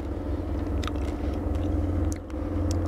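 Close, soft chewing of fresh figs with crunchy seeds, with small crackling bites over a steady low background rumble and no talking.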